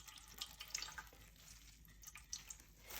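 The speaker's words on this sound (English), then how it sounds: "Take a colander, place it over a bowl, and squeeze as much of the water out." Water squeezed from defrosted tofu into a colander over a bowl, faint trickling and dripping with small splashes, quiet and close.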